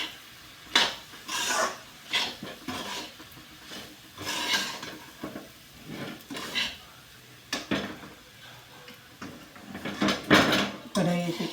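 Chivda made from kuskra stirred in a kadhai over low gas, with repeated scraping and clinking strokes at an irregular rhythm while someone talks over them.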